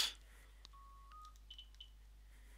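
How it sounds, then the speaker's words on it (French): A telephone in the video game Blood Bowl 2, a few short electronic beeps and tones, faint and sparse against a quiet background hum. "Le téléphone sonne, mais on s'en fout."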